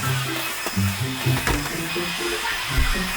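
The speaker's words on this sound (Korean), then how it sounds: "자, 청소기 돌려볼게요." A vacuum cleaner runs steadily nearby with a loud broadband whine, while lower thumps and rattles suggest debris being picked up.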